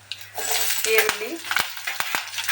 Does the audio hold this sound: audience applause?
no